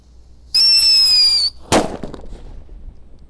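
A shrill whistling squeal rises for about a second, then a sharp firecracker bang cracks out and echoes away.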